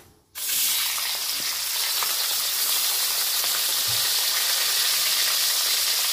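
Shrimp dropped into hot mustard oil in a wok burst into a loud, steady sizzle that starts abruptly and keeps crackling and hissing close by, with no voices.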